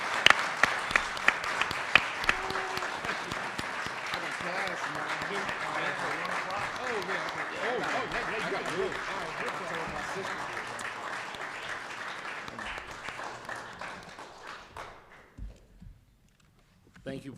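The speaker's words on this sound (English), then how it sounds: "Give them a round of applause." An audience at a legislative caucus speaker series applauds the panel of speakers, a long dense wave of clapping with scattered sharper claps and some voices mixed in, tapering off before falling silent near the end.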